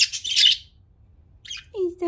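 Pet budgies outdoors give a burst of bright chirping, then fall quiet before a short squawk and a lower call near the end, close by against a faint background hum.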